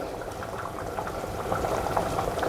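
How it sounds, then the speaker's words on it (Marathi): Ghee added to tondli masale bhat, an ivy gourd spiced rice, sizzling and bubbling steadily in the pot, a soft continuous frying hiss that swells slightly toward the end, with no voices. "आता मी थोडं तूप टाकते"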